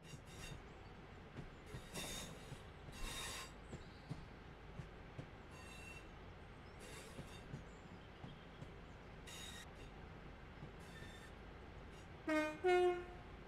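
Simulated train pulling into platform 2 at Manchester Piccadilly in Train Sim World 3, with low rumbling, intermittent clicks and wheel squeal, and a brief brighter tonal squeal near the end; fairly quiet overall.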